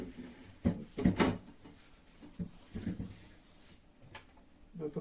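A Valberg refrigerator door or compartment is opened and closed, producing a few sharp plastic clunks and clicks close by, then softer bumps, in a quiet room.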